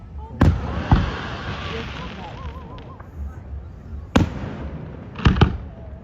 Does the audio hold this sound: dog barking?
no